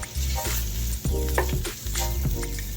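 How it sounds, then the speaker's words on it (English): Andouille sausage browns in avocado oil in a pot for gumbo, giving a loud, constant close-up sizzle with occasional scraping and stirring knocks. "we're gonna go in with a little bit of avocado oil, and we're gonna add that andouille sausage in, and we're gonna let this brown"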